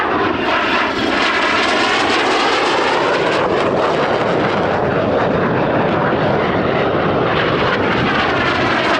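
Red Arrows jets roar loudly and continuously overhead during a formation display at the RAF Cosford Air Show, with a shifting, sweeping whoosh as the aircraft pass, and no talk.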